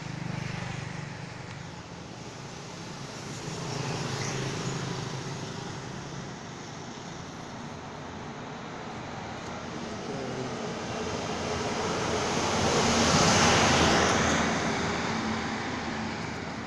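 A big, aggressive-looking new car's engine runs at a steady rumble mixed with roadway noise, swelling louder toward the end, with no talk.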